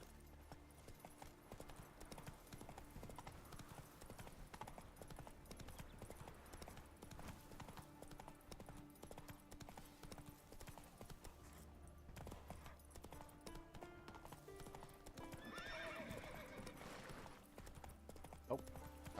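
Geralt's horse Roach trotting in The Witcher 3, hooves clip-clopping at a steady rhythm beneath quiet game ambience, with a brief whinny-like sound near the end.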